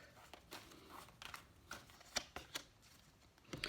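Tarot cards are shuffled up close in a series of quick riffling bursts and soft slaps, irregular and fairly quiet, with no talking.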